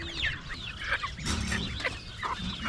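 A chicken caught in a trap on a homestead clucks in several short, close bursts against light outdoor background noise.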